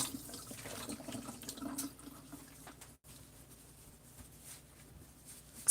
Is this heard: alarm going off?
no